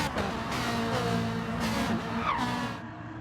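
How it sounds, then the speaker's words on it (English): Tyres squeal briefly on a racing car during a GTTCC Pro1 race, a short whine rising over continuous engine roar and passing traffic noise, with no talking. "Hear a little bit of tyre squeal"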